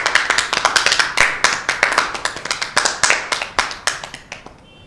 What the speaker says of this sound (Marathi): जोरदार टाळ्या होऊ देत